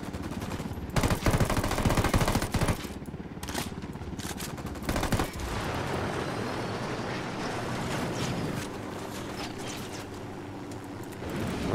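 Rapid bursts of automatic rifle fire with an M4 in the tactical shooter game Ghost Recon Wildlands, loud and dense for the first five seconds, then giving way to a steady mechanical and ambient rumble.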